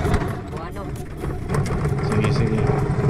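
A boat engine hums steadily at a pier, a low continuous drone that grows a little louder midway, heard from close by with voices talking over it.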